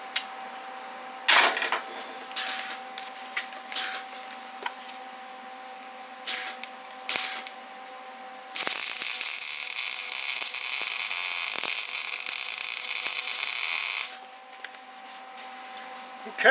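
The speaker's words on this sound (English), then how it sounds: "so we welded up the tip of it" Welding on the cracked tip of a Honda minibike part in a workshop: a steady loud crackling hiss runs for about five seconds, preceded by short bursts of sputtering and brief spits, over a faint constant hum.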